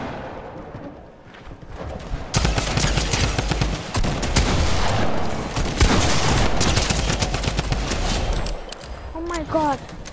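Dense bursts of rapid gunfire from the video game Fortnite, loud and continuous through most of the stretch, with a brief quieter lead-in and some game sounds near the end.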